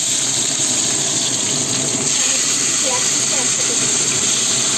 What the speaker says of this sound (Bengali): গরম হয়ে গেছে, এবার পেঁয়াজ দিচ্ছি।